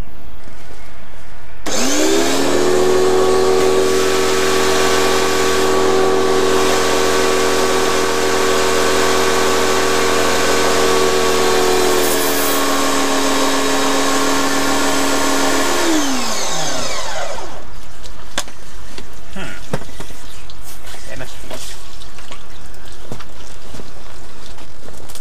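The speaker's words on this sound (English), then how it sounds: "then I will pressure wash" A pressure washer sprays down a boat keel coated in pre-clean degreaser, a loud steady motorized hiss and whine that starts abruptly, holds for about fifteen seconds, then winds down, with no talking.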